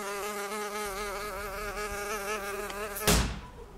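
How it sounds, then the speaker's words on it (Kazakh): Close, steady buzzing of house flies circling indoors in a home, continuous with wavering pitch, ending in a sudden sharp swat-like thud. "Ай, шыбынды өлтіріп атқан жоқпыз ба?"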